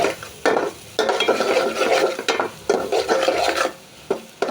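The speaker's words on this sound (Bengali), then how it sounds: "হলুদের গুঁড়ো দিয়ে দিলাম হালকা, একটু নেড়ে চেড়ে নেব হলুদের গুঁড়ো দিয়ে।" Fish being stirred with turmeric powder in a cooking pan, heard as a series of close, rasping scrapes and rubs in uneven bursts, separated by brief pauses, with no voices.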